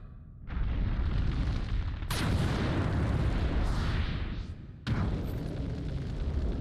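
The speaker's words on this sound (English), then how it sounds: "That explosion sounded like it came straight out of an Atari." A video game explosion from Kingdom Hearts, a loud booming burst that rumbles for several seconds, followed by a second sharp blast near the end, no voices.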